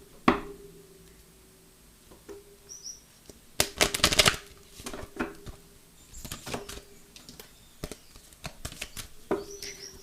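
Oracle cards being shuffled and cut by hand, with repeated bursts of crisp riffling and flapping card noise, loudest in a dense flurry near the middle, amid smaller taps and rustles.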